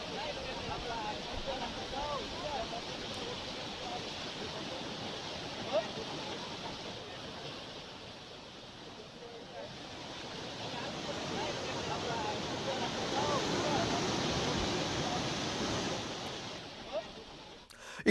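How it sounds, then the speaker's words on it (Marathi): The Khuni river runs at full capacity below a dam filled to 100 percent, a steady broadband rush of water heard from nearby, constant and moderately loud with slight swells, with no voices. "खुनी नदी जी आहे ती सुद्धा आता पूर्ण क्षमतेनं वाहू लागलेली आहे"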